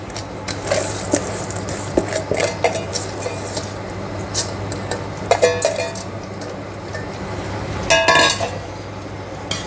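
Soaked rice for a soya chunk meal maker pulav is stirred into boiling salted water in a pot, with a spoon clinking and scraping against the metal in irregular strokes over a steady bubbling hiss.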